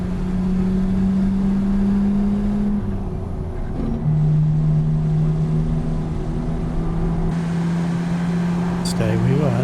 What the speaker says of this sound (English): Geez, I'm grinding through those gears today.